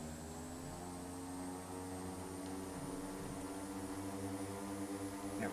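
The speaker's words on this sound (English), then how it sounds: "So once our parking brake is released, we're in flight idle, so we're going to push forward on our throttles." Twin propellers of an OV-10 Bronco in Microsoft Flight Simulator drone steadily as the throttles are pushed forward from flight idle, a continuous layered engine hum with a tonal whine that builds slightly in power over several seconds.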